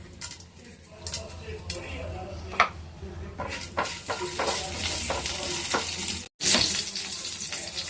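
Nigella seeds, chana dal and a dried red chilli crackling in hot oil in a pan, a busy close sizzle with scattered sharp pops and spoon scrapes, one brief cut near the end.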